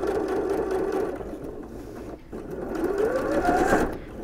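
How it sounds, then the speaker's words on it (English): A home sewing machine runs steadily, stitching and backstitching over the top of an apron pocket, its motor hum rising slightly in pitch toward the end with a brief pause midway. "backstitch right on top of the pocket and keep sewing"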